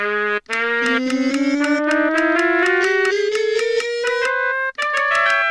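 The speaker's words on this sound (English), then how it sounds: "if you hit N, you play the trumpet, and it sounds like this." A bright brassy synthesized trumpet tone from a Minecraft music mod slides slowly upward in pitch, loud and steady, with a short break near the start and another near the end.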